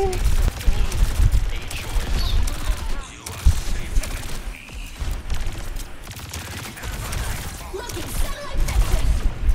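Video game gunfire, rapid repeated shots and bursts mixed with heavy low rumbling in a busy, loud battle soundscape, with a player talking over it.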